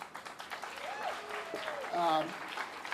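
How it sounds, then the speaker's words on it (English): Clapping from an audience at a North DeKalb Mall demolition press event, fairly steady and moderately loud, with people talking over it. "Let's have a round of applause for them."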